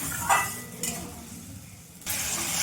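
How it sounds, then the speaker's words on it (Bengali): Turmeric and other spices frying in a pan for a Bengali hilsa fish curry with potato and eggplant give a low, steady sizzle, broken by a few sharp scrapes of a stirring utensil, close and fairly quiet. "মশলাটা আমি ভালো করে কষিয়ে নেব।"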